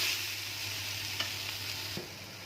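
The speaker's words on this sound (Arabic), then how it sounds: "بقلبها كده 10 دقايق اهو بالشكل ده" A spoon is stirring a Damietta pickle mixture in a pot, giving a soft, steady scraping hiss with a couple of faint clinks against the pot, and no talking.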